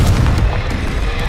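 A booming Confringo spell explosion in the video game Hogwarts Legacy, a loud, dense low rumble filling the whole short moment.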